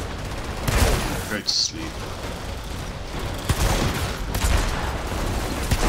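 Gunfire from the Outriders video game crackles in sustained bursts with sharp individual shots, loud and near, mixed with game sound effects and a brief spoken line.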